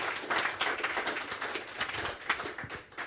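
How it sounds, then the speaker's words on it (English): An investor day audience gives panelists a short round of applause, heard as faint, thin clapping that patters on for a few seconds. "If we could get a quick applause for them"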